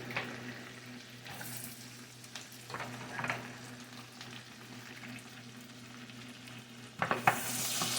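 Onions frying in a pan on low heat, for German potato salad: a steady, soft sizzle with light stirring scrapes and a brief clatter near the end.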